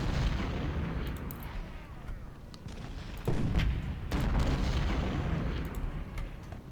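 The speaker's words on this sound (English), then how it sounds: "let the artillery keep doing its thing" Artillery cannons firing in the Civil War strategy game Ultimate General Civil War: a dense, rumbling barrage with two heavier booms standing out midway over continuous distant battle noise, no voices.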